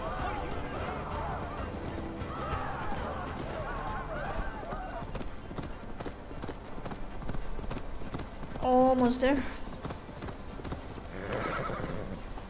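Horse hooves clip-clopping and a loud whinny in Assassin's Creed Valhalla, the hoofbeats running under a player's talk before the sharp neigh stands out near the end.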